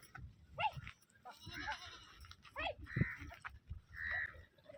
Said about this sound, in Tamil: இங்க ஒரு அம்மாங்க பாத்தீங்கன்னா நாட்டு வெள்ளாடுகள் வளர்த்து அதுல வந்து விற்பனைக்கு கொடுத்துட்டு இருக்காங்க.